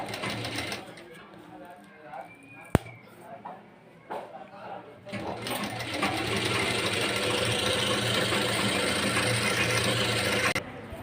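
A sewing machine runs steadily for about five seconds, stitching the button placket of a lined blouse. Brief handling clicks and light rustling come first, then the close, continuous mechanical whir takes over until it stops near the end.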